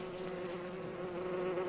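Killer bees buzz continuously in the video game Don't Starve, a steady close drone holding at the same level for the whole stretch with no talking over it.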